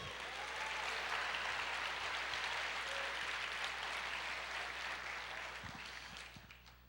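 A church congregation claps together during a sermon, a broad, fairly quiet wash of applause over a low steady hum, with a few thuds near the end as the clapping fades.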